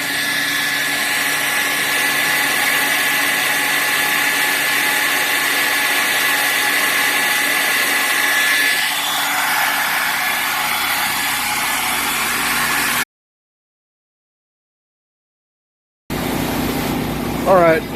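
A line boring machine cuts a bore with a steady, loud, high mechanical drone that shifts in tone partway through, then cuts out suddenly, leaving a short silence before more machine noise returns.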